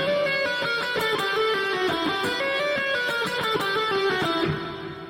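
Fast electric guitar lick, with a rapid run of picked and legato notes ringing loud and steady for about five seconds before trailing off at the end.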